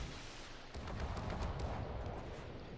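Torpedoes launched from a warship in World of Warships, a faint burst of muffled thumps and whooshing blasts layered over a low rumble, brief and distant-sounding with no talk.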